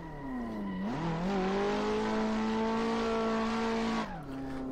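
A car in the Assetto Corsa racing game, driven with a Logitech G920 wheel, drifts after a clutch kick: loud sustained engine revving with a pitch dip and rise, tires squealing, then a drop in revs near the end.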